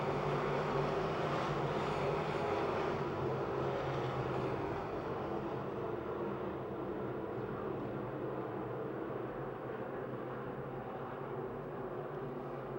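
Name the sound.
race cars on a speedway track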